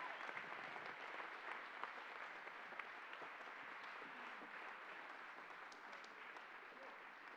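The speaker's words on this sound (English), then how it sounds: "Would you give him another hand clap?" Faint, distant applause from a church congregation, a steady wash of hand claps with a few sharper claps, heard at low level.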